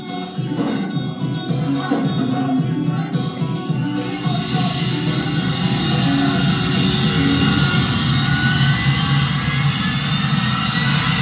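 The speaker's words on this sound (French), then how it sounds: "Avion a décollé, avion a décollé, avion a décollé." An airplane taking off roars steadily with a broad, heavy engine rumble that swells and holds loud for about eleven seconds, with no voices over it.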